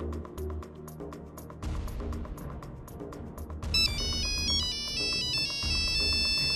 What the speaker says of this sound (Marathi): कोण ऑफिसला जाण्याच्या वेळी मध्ये मध्ये फोन करते आणि डिस्टर्ब करते